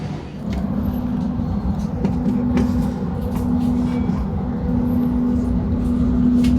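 Indonesian passenger train pulling away from a station on the way to Klaten, heard from inside a carriage as a steady low rumble with a sustained hum that builds slightly as it gets moving.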